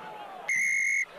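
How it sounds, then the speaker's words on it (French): Referee's final whistle at a professional rugby match, Oyonnax against Béziers: one shrill, steady blast about half a second long, clear and loud above faint crowd noise and commentary. "Un coup de sifflet qui met un terme aux derniers espoirs héroltais"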